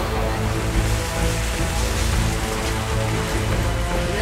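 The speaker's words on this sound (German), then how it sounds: "Wenn wir heute Vormittag gedacht haben, wir haben Regen, ne? Dann haben wir jetzt Tropensturm." Heavy tropical-storm rain pouring down at a campfire camp, a dense steady hiss and patter with a deep low rumble, loud and continuous with no talk.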